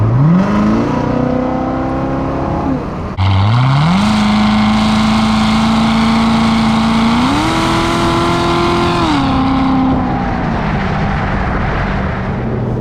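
A modified Chevrolet Corvette engine idles low at about 1,500 RPM, then revs up hard and holds a loud, rising drone before settling, close and steady with no talking.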